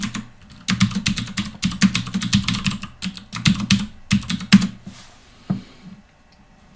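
Fingers tap out a username and password on a computer keyboard in quick bursts of clacking keystrokes, with brief pauses between runs and a final isolated keypress near the end.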